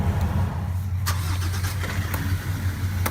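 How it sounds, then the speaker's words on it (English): A motorcycle engine runs steadily at a raised, constant speed with its throttle stuck open, a loud continuous drone with a few faint clicks from nearby handling. "the accelerator, throttle here, as you can see, it's stuck on"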